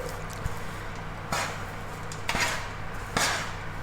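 Browning food stirred in a pan, heard as a few distinct scraping knocks of a utensil against the pan spaced about a second apart over a steady background hiss.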